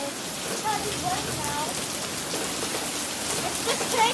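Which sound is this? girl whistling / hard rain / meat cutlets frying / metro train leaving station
hard rain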